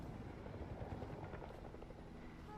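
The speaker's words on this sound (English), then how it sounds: "We got a helicopter coming in" A helicopter approaching in a video game, a steady rotor drone that stays faint and distant throughout, with no talk over it.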